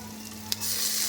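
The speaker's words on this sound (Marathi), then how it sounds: "टोमॅटोसुद्धा छान परतवून घेऊयात" Tomatoes sauté in a pan for a rice dish, with a steady close sizzle and a single sharp stir scrape partway through.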